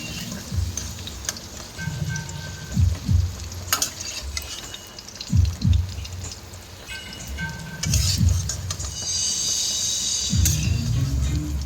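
Potatoes frying in hot oil crackle steadily up close, with occasional stirring scrapes and bursts of louder spatter, and no voices.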